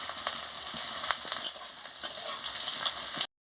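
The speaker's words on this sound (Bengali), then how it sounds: "এবারে পেঁয়াজটা ভাজা হয়ে গেছে" Onions sizzle loudly in a hot pan with oil, with scraping stirring strokes breaking through the steady crackle before the sound cuts off abruptly.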